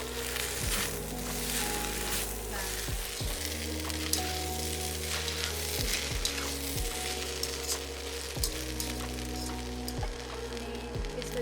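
Buff noodles tossed with sauce in a hot pan, a loud constant sizzle with repeated scraping and clanking strokes of the utensil against the metal, no talking.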